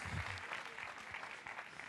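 Soft, distant applause from a summit audience for a live illustrator, a faint continuous patter of many hands over less than two seconds.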